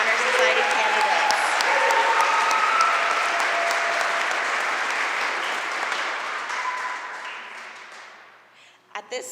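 An audience applauds National Junior Honor Society candidates at a middle school induction ceremony, a loud, sustained roar of many hands that gradually thins and tapers off, with a few scattered voices at the end.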